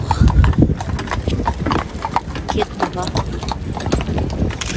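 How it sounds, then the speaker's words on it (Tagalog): A horse's hooves clip-clop steadily on the pavement near Schönbrunn Palace in Vienna, a close rhythmic run of sharp knocks with people talking over it in a busy outdoor setting. "Kabayo."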